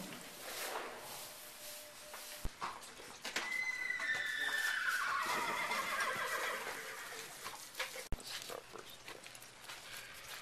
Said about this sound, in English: in front of the Candy Ride Colt stall, getting saddled up for his gallop out on the main track.